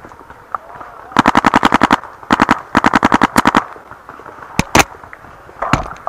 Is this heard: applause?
no